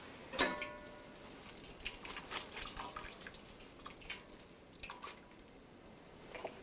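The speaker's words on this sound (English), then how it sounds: "Strain it to get the excess water off" Cooked macaroni for homemade mac and cheese draining through a strainer, with a faint metallic clink followed by soft trickling and scattered dripping water over a quiet kitchen background.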